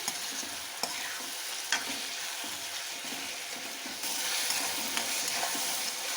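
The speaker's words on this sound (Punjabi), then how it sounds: "ਟਮਾਟਰ ਨੂੰ ਹੁਣ ਥੋੜੀ ਦੇਰ ਲਈ ਪਕਾ ਲਾਂਗੇ" Tomatoes frying in a pan for baingan bharta, a steady bright sizzle with occasional spoon scrapes and clicks as they are stirred, growing slightly louder partway through, with no talking.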